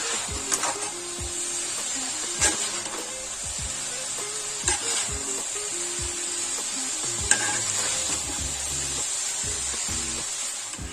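Basmati rice pulao with vegetables is gently mixed in a pot, giving soft repeated scraping and stirring strokes over a steady faint hiss, close up and with no voices.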